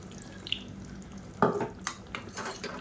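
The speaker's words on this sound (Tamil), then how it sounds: "இப்போ நான் லேசாக தண்ணி ஊற்றிக்கிறேன்." About a tablespoon of water goes into a pan of drumstick and brinjal masala curry: a short soft splash, then a few quiet stirring scrapes and light utensil clinks, close and faint.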